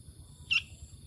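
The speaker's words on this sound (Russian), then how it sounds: "У меня тут одна очень разговорчивая птичка." A tiny hand-fed fledgling, a wild forest chick, gives one short, thin chirp close by against a quiet, low background hum, with no talk.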